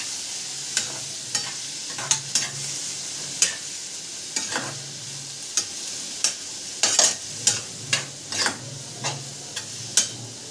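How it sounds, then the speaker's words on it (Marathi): A spice mixture stirred in a pan, a string of sharp scraping and clinking strokes against the metal at an uneven rhythm over a faint sizzle, with no talking. "छान असा मिक्स करून घेऊ आपण थोडंसं चांगलं"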